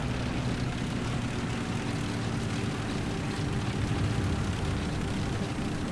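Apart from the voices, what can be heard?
propeller airplane flying around in the video game War Thunder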